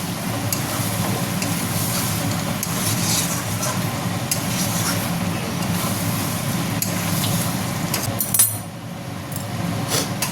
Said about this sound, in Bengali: আবার নাড়া দেবো, নয়তো ধরে যাবে। এবার একটু ঘন ঘন নাড়া দিতে হবে।